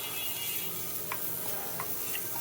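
Leafy greens are stirred in a pan, with a steady sizzle running throughout and a few soft scrapes of the spoon against the pan. There is no talking.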